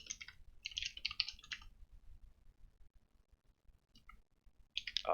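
Bursts of quick keyboard typing, close and crisp, come in short clusters separated by quiet pauses, with the clicking keys fairly soft over a low background hum.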